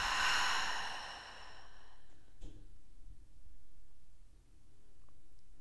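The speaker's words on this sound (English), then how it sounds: "Exhale, open the mouth, let it out." A deep breath let out through the open mouth during a yoga stretch, one long, loud, breathy sigh that fades into quiet room tone with a few faint soft movements.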